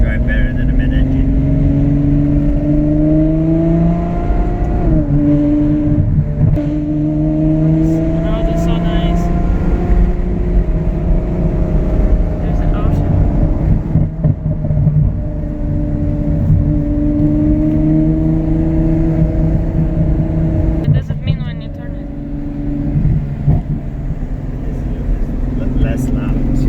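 A front-mounted V12 Ferrari F12 fitted with a full FI exhaust cruising on the road, a steady low engine drone with rising and falling revs, heard under continuous talking inside the car.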